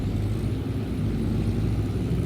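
A tractor engine in Farming Simulator 22 rumbles steadily as it strains to pull uphill, a constant low drone held at one level with no pauses or talk.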